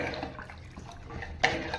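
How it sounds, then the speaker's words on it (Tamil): Water pours into a cooking pot for little millet payasam, a steady soft splashing stream that runs continuously and swells slightly toward the end. "நமக்கு எவ்வளோ தண்ணி வேணுமோ அவ்வளோ ஊற்றிக்கலாம்"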